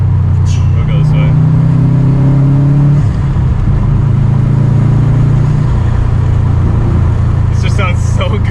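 A Subaru STI with a Stage 2 tune accelerating while driving, its loud engine drone rising through the gears, with a shift break and a steady cabin hum and some voices inside.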